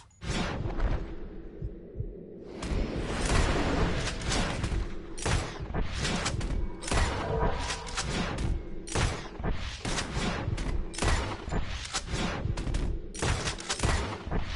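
Rapid, repeated gunfire during a bird hunt in Red Dead Redemption 2, a dense volley of loud close shots cracking in irregular bursts for many seconds after a short quieter opening.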